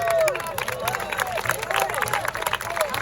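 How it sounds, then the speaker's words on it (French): Crowd at a Napoleon jubilee reenactment claps and cheers, with busy babble and voices mixed through the applause. "Applaudissez!"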